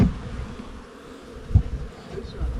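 Bees buzzing inside the wall boards of a building in the woods, a steady low hum with brief louder swells near the start and middle.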